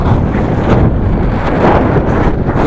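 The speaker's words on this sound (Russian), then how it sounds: "Здесь просто задувает в этой долине вот." Strong wind blows steadily and roughly across an open valley in Mongolia, buffeting loudly and continuously with no voices.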